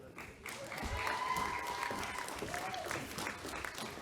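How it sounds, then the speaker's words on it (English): An audience at a 2022 college convocation in Fort St. John applauds and cheers a graduate of the BC Adult Graduation Diploma. The loud, continuous clapping has scattered whoops and crowd noise throughout. "That's how you're supposed to cheer."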